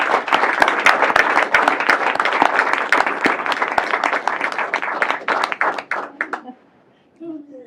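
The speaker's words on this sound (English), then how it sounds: "And I think a round of applause for families." Audience applause for families at a city council meeting: dense, loud clapping from a roomful of people that carries steadily for about six seconds, then thins to a few scattered claps and dies away, with a brief murmur of voices at the end.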